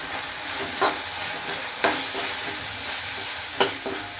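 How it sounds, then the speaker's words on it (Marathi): Homemade red chili masala sizzles steadily in hot oil for an amtee curry, with a continuous frying hiss broken by a few sharp spoon scrapes and stirs against the pan. "तर आपण टाकते मसाला तिखट, हे मी घरी बनवलेलं आहे. तेलामध्ये छान परतून घ्यायचं."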